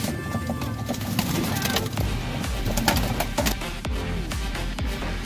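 Racing pigeons coo at a home loft in the Philippines on a race release day, soft throaty calls repeating through a dense, busy backdrop of steady noise with no clear speech.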